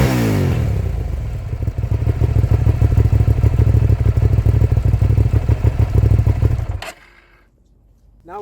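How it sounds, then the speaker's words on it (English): Stock exhaust of a Hyosung GT650R motorcycle revving hard and loud up close, a steady throaty drone for about seven seconds that cuts off abruptly into near quiet. "Now let's move on to the exhaust sound of the motorcycle."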